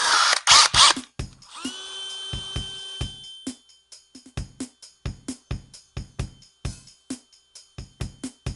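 A cordless drill's trigger is tested with many quick clicks, short bursts of whirring motor and a longer whine, all close and in an irregular rhythm, after a battery clacks in.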